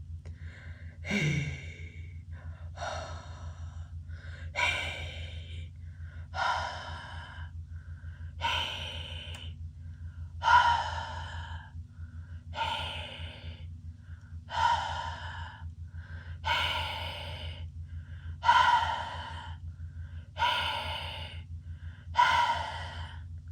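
A voice imitates heavy monster-like panting: about a dozen rhythmic, breathy gasps in steady succession, close and moderately loud over a low hum.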